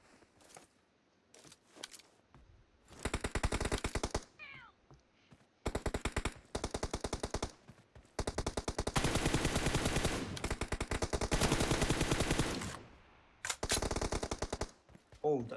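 Bursts of automatic gunfire from a PUBG Mobile two-versus-two team deathmatch crackle in long rapid strings, with short pauses between volleys and occasional single shots at the start and end.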